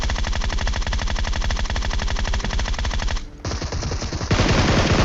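Rapid automatic gunfire in the mobile battle royale game PUBG Mobile, loud dense bursts of shots in steady rhythm, broken by a brief pause and then resuming with a different weapon tone.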